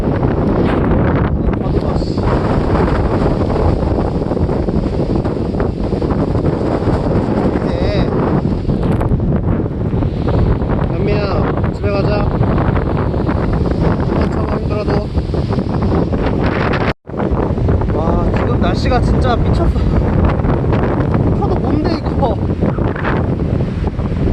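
Strong autumn wind in Gangwon Province, Korea, buffets the microphone in a constant loud rumble, gusting harder at moments, with a brief dropout near the end.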